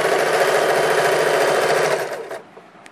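A sewing machine runs in a steady continuous whir as elastic is stitched onto fabric, loud and close, then slows and stops near the end with a few small clicks.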